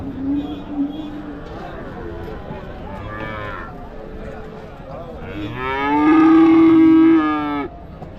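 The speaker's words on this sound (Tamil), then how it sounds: "எல்லாமே ஹெச்எஃப் குட்டிங்க நல்லா அற்புதமாக இருக்குது பாருங்கள்" Holstein Friesian calves moo at a cattle market in Krishnagiri district, one long, loud, close moo rising near the end over a steady background of market chatter and someone talking.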